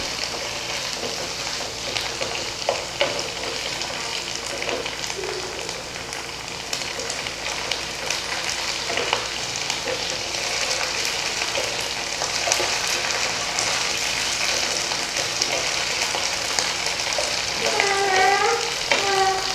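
Light-browned onions sizzle steadily with ginger-garlic paste for an aloo anda salan, a dense continuous frying hiss with occasional scraping stirs, fairly close and alone throughout.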